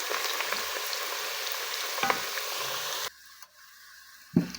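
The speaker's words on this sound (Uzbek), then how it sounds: "Kartoshkalarimizni birinchi o'rinda qovurib qizartirib olamiz." Potatoes fry in hot oil for rice cutlets with a steady, close sizzle for about three seconds. The sound then cuts to near quiet, and a soft clunk follows at the end.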